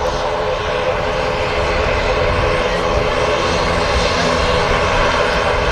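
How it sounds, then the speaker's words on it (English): An Aer Lingus regional ATR 72 turboprop from Dublin landing at Manchester Airport, a loud, steady roar of engines and propellers, close and continuous throughout. "This is a nice noisy plane coming in. Aer Lingus regional ATR 72 from Dublin."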